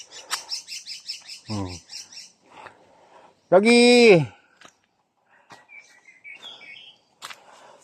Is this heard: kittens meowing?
no